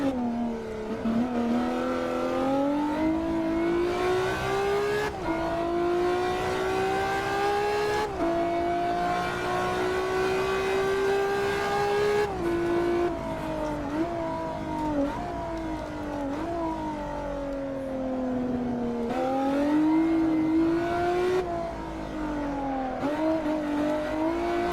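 A Ferrari F50 in the Assetto Corsa racing game, its engine droning loudly and continuously, pitch climbing through the gears and dropping at each shift, with no talk over it.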